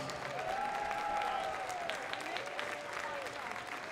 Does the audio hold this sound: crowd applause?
yes